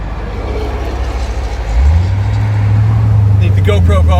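A Corvette C8 convertible drives past, its engine swelling into a loud steady drone close by after a quieter stretch of road noise, with a voice briefly talking near the end.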